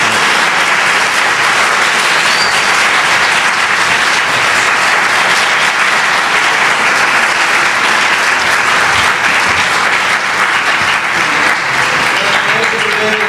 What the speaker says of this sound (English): let's have a round of applause for Shaun Tan, David Polonsky, and Emmanuel Guibert